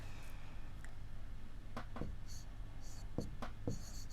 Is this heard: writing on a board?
yes